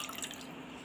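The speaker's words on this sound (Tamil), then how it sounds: "2 கப்பு தண்ணி ஊற்றி நல்லா இதை கரைச்சி விட்டுக்கலாங்க." Water is poured into a pot of cooked dal, a brief, faint trickle and dripping close by.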